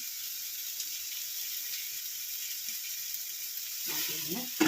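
Fenugreek leaves cook in a pan for egg bhurji, releasing their moisture with a soft, steady hiss that stays quiet throughout, before a brief clatter near the end.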